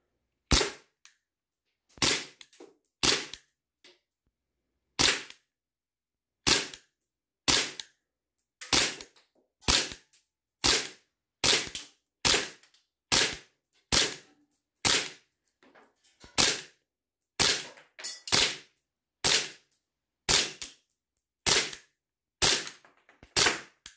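A Sig Sauer P229 airsoft pistol fires round after round, about two dozen sharp, loud cracks at a steady pace of roughly one per second, each standing alone with no voices.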